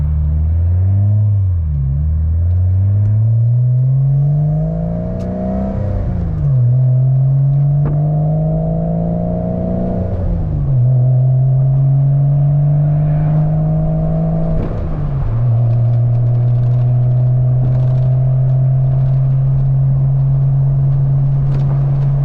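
A Porsche 986 Boxster with an aftermarket Sobrody cat-back exhaust pulls out and accelerates up through the gears. Loud, close engine tones rise and drop at each shift, then settle into a steady droning cruise.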